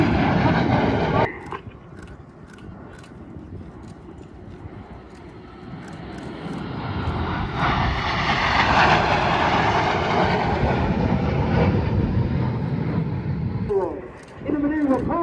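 Aerobatic airshow plane with a belly smoke pod during a mirror roll manoeuvre at Airshow Atlantic, a sustained engine drone rising and swelling as it passes, heard under steady commentary.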